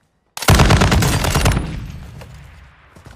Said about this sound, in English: Let's test out this gun.